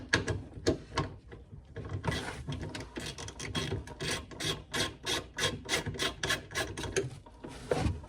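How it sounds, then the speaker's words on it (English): A small ratchet clicks rapidly as 8mm bolts come out on a BMW E46 convertible, the dense ticking bursts close and fairly quiet, with short pauses between runs. "I'm just going to remove these bolts. Convert it to my little ratchet now,"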